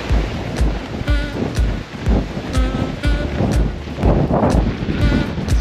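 A strong headwind gusts across a marathon course in La Rochelle, buffeting the microphone as a loud, rumbling roar that surges and eases unevenly, with no voices heard.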